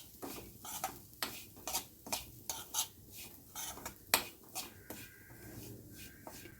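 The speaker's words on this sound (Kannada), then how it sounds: "ರವೆನ ತುಪ್ಪದಲ್ಲಿ ಹುರ್ಕೊಳ್ತಾ ಇದ್ದೀನಿ." Semolina roasting in ghee in a pan over medium heat, a spoon scraping and stirring in steady irregular strokes with faint sizzling beneath, quiet and close.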